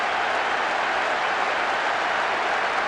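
A football crowd roars and applauds at an international match, a dense, steady wash of cheering and clapping heard alone at a distance.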